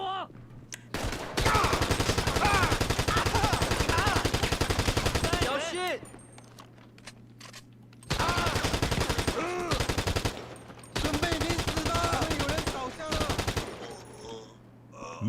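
Rapid automatic gunfire in GTA 5 Online, long continuous bursts of a magazine dump broken by short pauses, loud and close, with a voice speaking faintly in the gaps.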